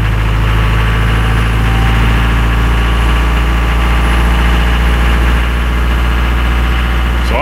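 A Mitsubishi Delica L400 with the 4M40 diesel engine is held at raised revs around 2,000 RPM, giving a loud, steady, close droning rumble with a constant even pitch and no speech.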